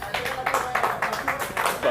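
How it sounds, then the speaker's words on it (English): Sparse applause from diners in a busy New York pastrami deli, with rhythmic claps rising and falling over the steady room murmur. "Are they applauding because that guy showed up on time?"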